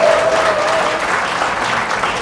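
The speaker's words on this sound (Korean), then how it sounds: "하시겠다는 분만 박수 한번 쳐주시기 바랍니다" An audience at a K Stadium lecture event breaks into steady, dense clapping that stays even across the short stretch, with no voices over it.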